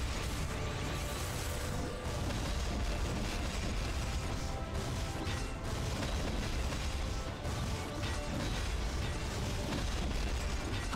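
Xenon's particle accelerator skill firing in MapleStory during the hard Lotus boss fight: dense, continuous crashing and booming blasts at a steady loud level for the whole stretch, with no pauses.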